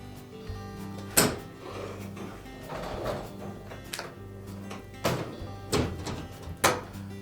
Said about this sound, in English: you may also want to open the door up and remove the lower rack as well